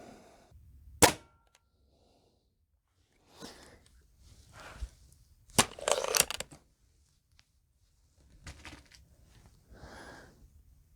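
A Crosman Crusher air rifle dieseling on acetone fires a sharp, loud crack near the start, then several irregular bursts of louder, more explosive reports and handling rattles. Quiet pauses fall between them.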